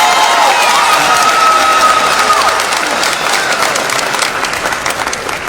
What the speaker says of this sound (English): Another round of applause for Duwana.